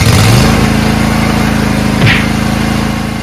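A riding lawn mower's engine on a garden tractor, freshly fitted with a new 12V battery, turns over and runs loud and close, a steady throbbing drone with a brief rev partway through and no talk.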